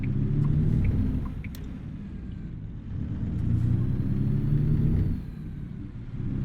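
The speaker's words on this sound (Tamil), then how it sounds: "வண்டியோட சவுண்டு பாருங்கள் கைஸ், வேறு லெவலில் இருக்குது" A big truck's engine rumbles steadily in American Truck Simulator, a deep, loud drone that swells and eases in two long waves, close and alone with no talk.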